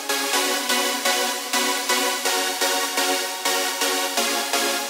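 Layered synth chords, with bright high-end chords stacked over low chords, pulsing in a steady rhythmic pattern of repeated stabs, loud and alone with no voices.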